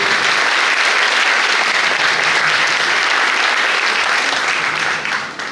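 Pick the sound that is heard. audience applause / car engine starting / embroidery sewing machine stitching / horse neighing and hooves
audience applause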